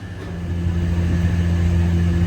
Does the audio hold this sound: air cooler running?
yes